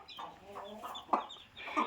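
A hen clucks in short, close bursts, several soft calls in quick succession, faint background otherwise; free-range farm setting with chicks.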